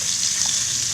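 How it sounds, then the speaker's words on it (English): Shrimp sizzling in a hot frying pan, a steady close hiss of frying that continues unbroken and fairly loud, with no voices over it. "You hear them sizzling, right?"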